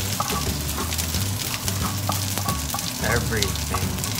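Rice being stir-fried in a wok with partly cooked sausage for egg fried rice, a loud continuous sizzle with scraping stirs and clattering throughout.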